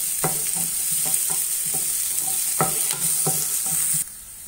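Onions sautéing in a pan with ground paste added for cauliflower rice, a continuous bright sizzle punctuated by regular rhythmic stirring scrapes about every half second, close and loud, ending abruptly.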